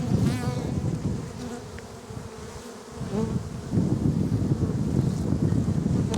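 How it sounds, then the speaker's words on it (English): Honeybees buzz steadily and close around an open hive being inspected for a queen, a dense continuous drone with gusts of wind noise buffeting the microphone. "See this bee right here."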